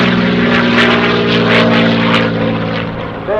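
A Supermarine Spitfire's piston engine runs nearby at an air show, giving a loud, steady propeller drone with a slight pulsing that eases off a little near the end.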